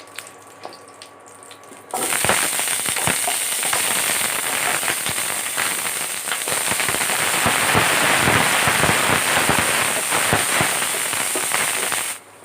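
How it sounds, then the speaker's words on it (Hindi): Potatoes fry in hot oil in a home kitchen, a loud continuous sizzle with dense crackling and popping that starts abruptly after a quiet moment and runs steadily to the end. "आलू को भूनेंगे।"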